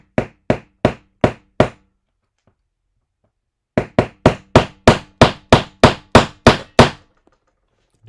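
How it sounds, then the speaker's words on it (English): Hammer blows drive a joint into a Mezco Nosferatu toy figure during an elbow repair: five quick, sharp taps, a pause of about two seconds, then a run of about eleven evenly spaced strikes, loud and close. "I'm literally about to hammer this in."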